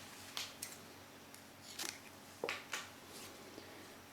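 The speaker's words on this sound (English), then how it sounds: "Now I'll chain 1 and then I'll cut this yarn." Scissors snip crochet yarn close by in the quiet, a few short crisp cuts spaced irregularly over a few seconds.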